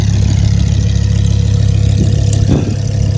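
A loud, deep Lamborghini engine idling steadily up close, with a throaty exhaust rumble and a brief rev near the end.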